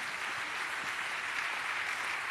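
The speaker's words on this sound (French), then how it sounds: "je vous propose de les applaudir en groupe" Group applause from the audience at a network meeting on putting the economy at the service of the living, a continuous, even roar of many hands clapping with no talk.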